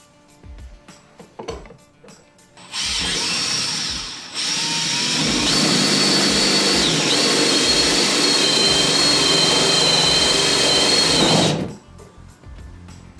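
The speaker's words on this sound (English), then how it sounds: "Now I'm going to drill this hole in the bottom lower right corner of the pocket" A power drill whirs steadily for several seconds, rising slightly in pitch partway through, then stops; faint knocks before and after.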